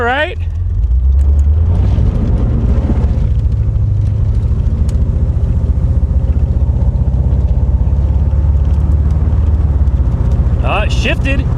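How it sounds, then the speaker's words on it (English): A 1985 Chevy Corvette rescued from a Florida swamp, its engine rumbling loudly up close as it drives and shifts through the gears, with a brief voice at the start and end. "It shifted through all the gears."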